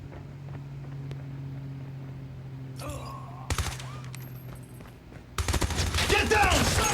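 Automatic gunfire from Call of Duty Mobile, starting with quiet ambient game sound, then a short burst near three seconds and loud sustained sprays of rapid fire after five seconds, with game voices heard.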